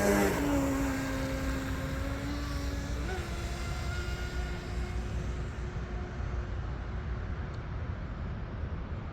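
An M700 Mono RC speedboat's electric motor whines under throttle, a steady high-pitched drone whose pitch climbs and then holds near the start, with broadband water and wind rush beneath it and no talking.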